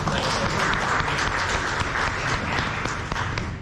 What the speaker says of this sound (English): So let's just give them a round of applause for it.